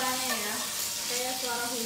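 Satay skin for taichan satay fries in plenty of hot oil, giving a dense, continuous sizzle that stays loud and even throughout, with voices talking faintly underneath.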